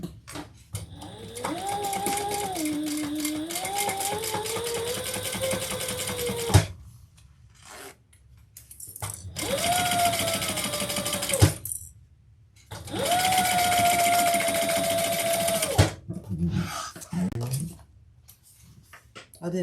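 A sewing machine top-stitches the side panel of a fabric Joy Bag in three sustained runs, with a rapid mechanical chatter and a motor whine that rises and falls in pitch with the speed, separated by short quiet pauses.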